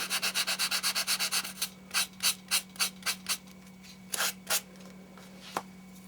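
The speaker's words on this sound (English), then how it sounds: "with your block, sanding block." Sanding block rubbed over scrapbook paper in quick, rhythmic scratchy strokes, a fast even run at first and then slower separate swipes with pauses, close and fairly quiet, with no talking.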